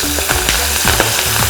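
Sliced onion petals sizzle in a hot pan for lemon paneer, a steady close crackle broken by repeated low scraping knocks of a stirring spoon.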